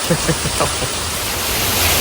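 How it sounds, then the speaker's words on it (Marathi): Heavy monsoon rain pours down outdoors in a dense, loud, continuous roar, with a faint voice briefly audible near the start; no distinct thunderclap stands out. "फक्त पाऊस नाही तर मोठमोठ्याला विजा पण कोसळत आहेत ढग गडगडत आहेत"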